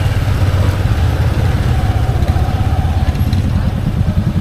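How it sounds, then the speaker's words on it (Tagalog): A motorcycle engine idles close by with a steady, loud low rumble and rapid pulsing throb throughout, with a faint voice in the background. "Oh, may motor pala naman eh."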